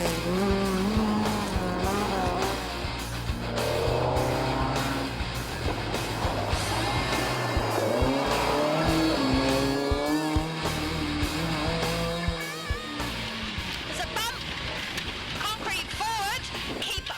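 Rally cars race through a special stage on the Taieri Plains in the Otago Coast State Forest during a classic rally, with engines revving and shifting up and down under a voice talking over the action.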